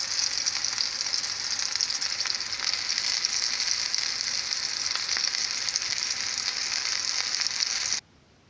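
Chicken and sausage fry in grease in a pan over fairly high heat, making a bright, steady sizzling hiss with faint pops that stops abruptly near the end.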